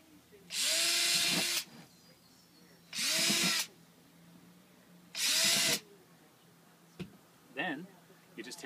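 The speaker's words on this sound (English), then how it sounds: "one way that you can make this a little bit easier on yourself is to drill pilot holes in each" Power drill boring pilot holes into the corners of a wicking bed, three loud whirring bursts of about a second each separated by short pauses, followed by faint clicks and handling noise.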